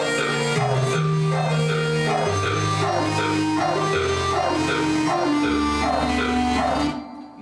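An EDM trap beat with a thumping heartbeat-like low pulse and sharp repeating claps over dense layered synths, looping in a steady rhythm at full volume before cutting off abruptly at the end.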